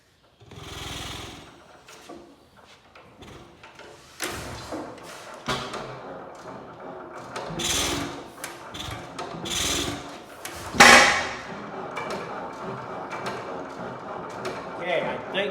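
An old Hercules engine turns over under the starter in several uneven cranking bursts with thumps and knocks, close and fairly loud, while someone talks over it.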